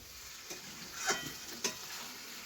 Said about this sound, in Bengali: তারপর এগুলোকেও ভালো করে একটু মশলাটা লাগিয়ে দেওয়া হলো, মিক্স করা হচ্ছে।